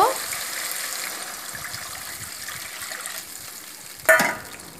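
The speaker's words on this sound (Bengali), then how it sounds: "মশলা থেকে তেল ছাড়তে শুরু করে দিয়েছে এবারে ওর মধ্যে জল অ্যাড করে দেব" Oil-released masala for a soybean kofta curry sizzles steadily in a pan. Near the end, water is poured in and a sharp, louder hiss bursts up, then fades.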